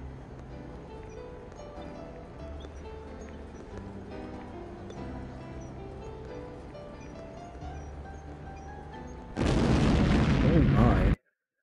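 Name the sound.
gas explosion in the video game Emergency, Fighters For Life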